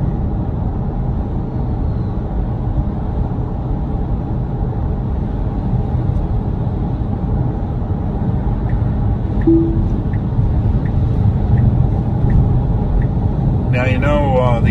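A Tesla on Full Self Driving V12 accelerates up to highway speed, heard as a steady, loud rumble of road and cabin noise with a brief rattling burst near the end.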